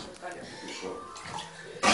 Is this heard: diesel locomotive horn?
no